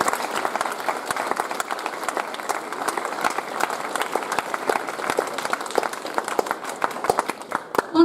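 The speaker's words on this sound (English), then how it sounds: "let's give them a big round of applause for all of their efforts." Sustained audience applause at a Rolleston College Year 10 prize-giving ceremony: dense, steady clapping from a large crowd, close and continuous for the whole stretch with no talk over it.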